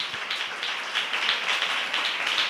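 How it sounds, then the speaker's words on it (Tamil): A church congregation clapping their hands together in worship, a dense, steady patter of many overlapping claps sustained throughout, moderately close with no one talking. "நல்ல கைத்தட்டி ஆண்டவரை மகிமைப்படுத்துங்களேன்."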